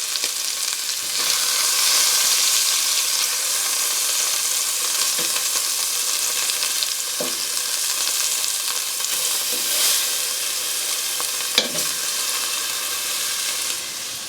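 Beef tips sear in a hot pan on the stove, giving a loud, continuous close sizzle with an occasional clink or scrape of a utensil, no talking throughout.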